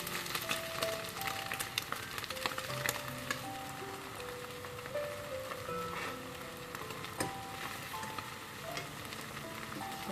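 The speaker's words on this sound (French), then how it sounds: "On entend que ça cuit." Omelette frying in a pan: a faint, steady crackling sizzle with scattered pops and a constant hiss, heard close throughout with no talking.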